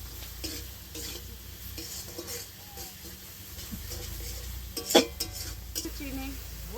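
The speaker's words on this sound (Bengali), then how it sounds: "দিয়ে আবারও কিছুটা ভালো করে নেড়ে দেবো।" Shol fish curry is stirred in a frying pan over gentle sizzling: repeated spatula scrapes and taps against the pan, with one sharper metallic clank partway through, close and clear.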